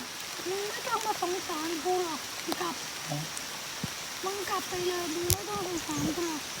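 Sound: rain falling by a river

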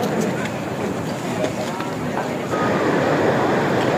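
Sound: waves rolling at Kelingking Beach, Nusa Penida, Bali

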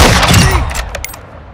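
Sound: gunshot in Call of Duty DMZ video game

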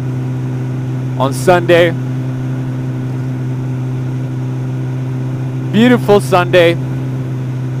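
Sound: motorcycle engine while riding

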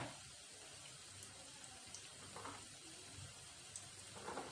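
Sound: mendu vada frying in oil

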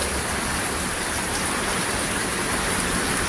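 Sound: heavy rain and wind

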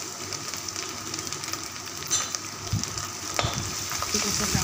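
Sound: curry leaves sizzling as they fry in hot oil

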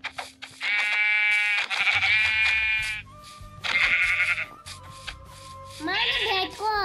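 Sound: sheep bleating in a video game

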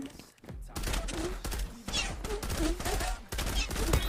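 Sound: gunfire in the video game Zula

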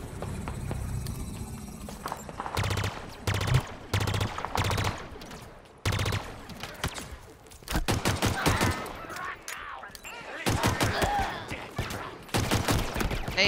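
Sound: gunfire in the video game Halo Infinite

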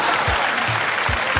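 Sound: audience clapping

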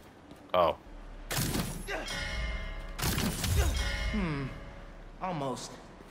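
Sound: bell ringing in video game Spider-Man 2

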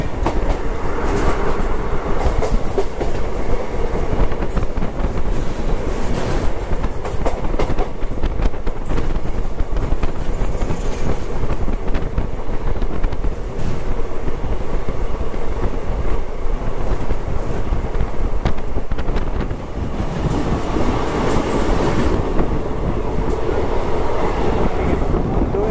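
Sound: Gujarat SF Express train hauled by WAP-7 locomotive running

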